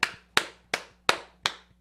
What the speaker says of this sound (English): I feel weird clapping for myself